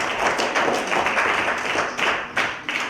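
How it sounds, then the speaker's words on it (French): An audience at a poetry contest award ceremony applauds a winner, with steady dense clapping close by and no talk over it. "On met l'applaudissement pour Ketty Delague."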